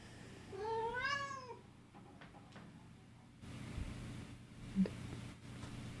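A house cat gives one clear, drawn-out meow at moderate distance in a quiet indoor room, followed by faint soft thumps and rustling.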